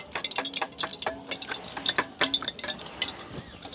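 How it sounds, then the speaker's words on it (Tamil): Chopped onion is stirred into beaten egg in a bowl while cooking in a village kitchen, giving quick wet stirring and light clinks against the bowl in a busy, irregular rhythm, close by, with no talking. "அதையும் வந்து இந்த அடிச்செடுத்த முட்டைக்குள்ளே சேர்த்துக்கொள்வோம்"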